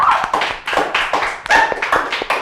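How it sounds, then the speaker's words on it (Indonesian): Audience clapping at a wedding MC talk event, loud irregular claps from a smallish group, individual sharp hand strikes audible in uneven bursts close by, with no voices over them. "Sekali lagi tepuk tangan dong."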